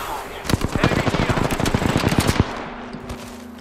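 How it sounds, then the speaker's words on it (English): Automatic gunfire in a multiplayer shooter video game, a loud rapid burst of shots for about two seconds that then cuts off into quiet. "Kami is shooting at me now"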